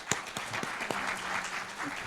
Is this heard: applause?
yes